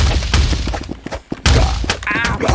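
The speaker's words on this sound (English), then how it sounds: "Just get hit with some bombs." Bombs explode in the online game Gobattle, a rapid cluster of sharp bursts and thuds in quick succession, loud and close, with brief gaps between volleys.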